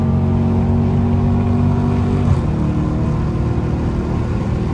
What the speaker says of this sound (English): Can y'all hear the car?